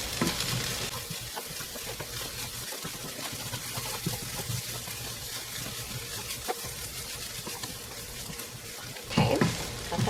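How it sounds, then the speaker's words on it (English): Meat is stirred back into a hot, sizzling pan for a budget dinner, with steady frying hiss and scraping spoon strokes running continuously up close, no one talking. "Now we're going to add our meat back in. Stir that in good."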